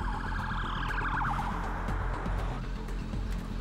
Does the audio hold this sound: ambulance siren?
yes